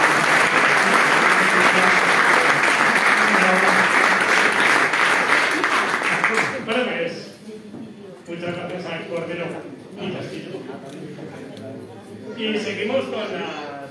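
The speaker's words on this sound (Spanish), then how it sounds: "un fuerte aplauso a Cordero" Loud audience applause at a homebrew beer contest award ceremony fills the first half, then fades into scattered claps and murmuring crowd chatter.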